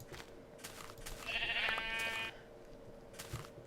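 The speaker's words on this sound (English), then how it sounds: "As I run around and kill sheep." A sheep in a video game gives a single bright, wavering bleat lasting about a second, over faint background game sounds.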